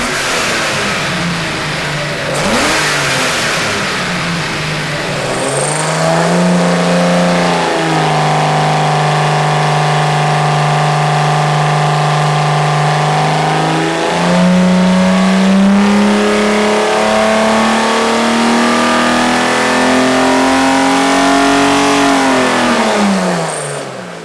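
A Chrysler 225 Slant Six engine on a dyno revs hard toward 5,500 RPM, its loud, steady drone holding, then climbing in pitch and fading at the end.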